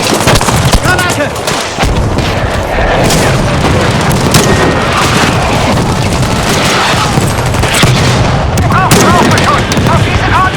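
A grenade blast and gunfire in the video game Battlefield 5 during a Grand Operations battle, a dense, continuous roar of explosions and shooting that stays loud throughout, with shouted voices mixed in.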